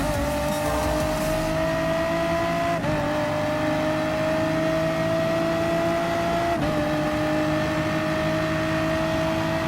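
A race car engine in Gran Turismo Sport drones loudly and continuously at high revs, with two brief dips in pitch like quick gear changes and no voices.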